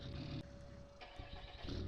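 A truck engine in Farming Simulator 19 turns over and settles into a steady idle with a faint hum, heard alone with no talking, moderately quiet.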